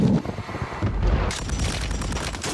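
Grenade blast in Warzone 3, a loud booming explosion with a heavy low rumble that rolls on and decays over a couple of seconds, with no talking.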